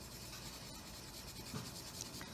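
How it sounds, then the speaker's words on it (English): Graphite pencil shading across paper, with the pressure building to darken a drawn cylinder: a steady, close, dry scratching that continues without pause, with no voices. "I can start pushing a little harder with my pencil"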